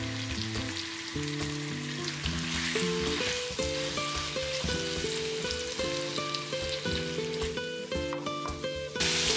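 Shrimp sizzle and fry steadily in a hot pan, a dense, close crackle that stays even throughout, with music playing underneath.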